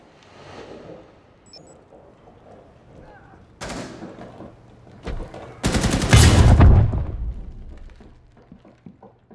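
Gunfire and heavy artillery-style blasts in Rainbow Six Siege, a Fortress team deathmatch match on the Wind Bastion map, building from scattered shots to a loud dense barrage of bursts midway, with faint voices in the background.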